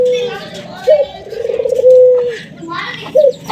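Pigeons coo in short throaty bursts near a newly built four-compartment cage, several rolling calls spaced across a few seconds.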